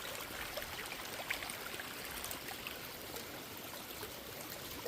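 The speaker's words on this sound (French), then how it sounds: "C'est pas des cascades, c'est la rivière." River water rushing steadily along the Appalachian Trail, a dense, continuous broadband roar with no breaks, fairly close and alone without voices.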